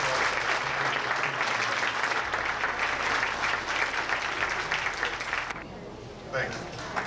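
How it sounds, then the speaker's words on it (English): Audience at an anniversary celebration applauding the organizers, a full, sustained round of clapping that fills the room, then thins and fades near the end. "I think these folks deserve a round of applause"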